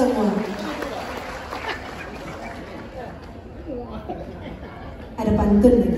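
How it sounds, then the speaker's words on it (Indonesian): An audience of civil servants at a thanksgiving celebration breaks into applause, a broad wash of clapping and crowd murmur that swells loudly toward the end, with chatter throughout. "Beri tepuk tangan untuk kita semua."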